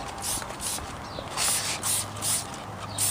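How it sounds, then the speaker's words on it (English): Rim cleaner is sprayed onto the wheels of a car being washed, heard as repeated short hissing spray bursts in a steady rhythm over a low background hum, with no talking. "I'm going to start by spraying the rim cleaner on all four tires."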